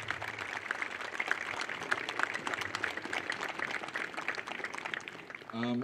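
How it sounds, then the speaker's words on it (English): A school band farewell audience keeps clapping for an honoree, a soft, distant scatter of hand claps lasting several seconds before cutting off. "Could you please give him a round of applause?"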